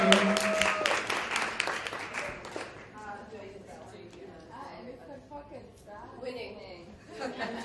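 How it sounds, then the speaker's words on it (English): Audience applause for a marketing manager at a business event, loud and dense at first with some cheers, then thinning into scattered claps under murmuring voices. "A round of applause for Busi."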